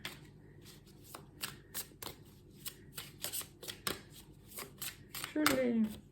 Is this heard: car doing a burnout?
no